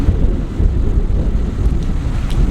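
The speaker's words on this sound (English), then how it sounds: "Don't let the bloody wind take it away." Strong wind buffeting the microphone outdoors at a trough, a loud, continuous low roar with gusty surges and no pauses throughout.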